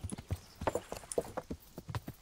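Horse hooves clip-clopping in the video game Kingdom Come Deliverance as a laden horse walks, a quiet, uneven run of hoof knocks spaced a fraction of a second apart, heard alone.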